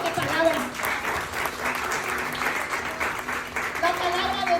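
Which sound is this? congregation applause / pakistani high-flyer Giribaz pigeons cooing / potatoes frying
congregation applause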